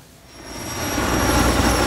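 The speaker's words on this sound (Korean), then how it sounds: "초대형 헬기가 산불 현장으로 접근합니다." An S-64 type heavy firefighting helicopter approaches a wildfire in the mountains of Gangwon Province, its engine roar and rotor wash swelling from a faint rumble to a loud, steady drone with no voices.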